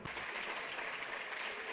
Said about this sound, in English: A great round of applause for you.